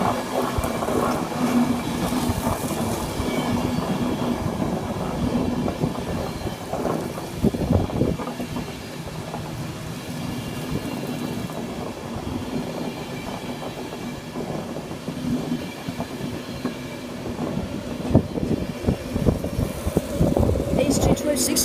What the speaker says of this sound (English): This is the train that we always take for London King's Cross.